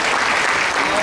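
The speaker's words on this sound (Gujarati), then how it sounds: "તાળીઓના ગડગડાટ લગાવીશું" Loud, dense applause from a seated crowd at a community celebration for elderly people, an unbroken wall of clapping filling the whole moment.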